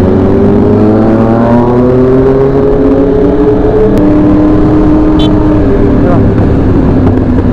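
Motorbikes with loud aftermarket exhausts revving on a street, a continuous close, loud engine drone with layered rising and falling pitch throughout, and voices talking faintly over it.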